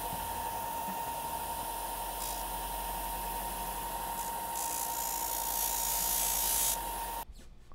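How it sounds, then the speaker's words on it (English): Small electric grinder or sander on the edge of a 3D printer part removal tool gives a steady whine with a sharp tone, growing slightly rougher before cutting off abruptly near the end. "Or you can use a sander, same thing."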